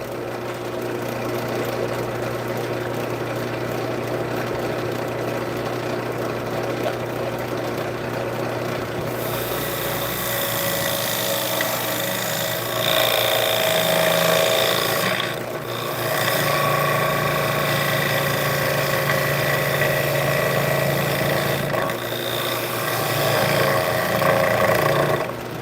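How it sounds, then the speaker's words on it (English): A shear scraper works the sides of a spinning wooden bowl on a lathe, producing a sustained, close, gritty scraping drone over the motor hum that intensifies partway through, with no speech. "The only thing we're doing now is doing some shear scraping on the sides of it"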